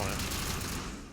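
Gunfire in the video game Mass Effect, heard as a brief, dense crackle of overlapping shots with a broad roar that fades slightly at the end, with a voice faintly present.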